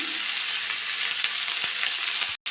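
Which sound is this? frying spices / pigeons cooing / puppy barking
frying spices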